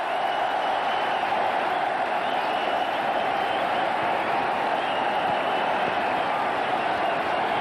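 A cricket stadium crowd at an India versus Australia one-day international in Indore roars and cheers continuously for Sachin Tendulkar's 10,000th ODI run, a dense, sustained wall of distant voices with no single voice standing out.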